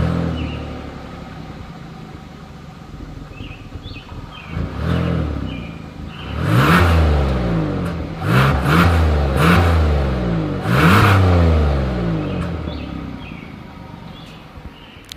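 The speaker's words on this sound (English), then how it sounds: "As always, here is that exhaust clip." A Hyundai Palisade SUV engine idles, then revs up hard several times, its exhaust rising and falling in loud repeated bursts before settling back.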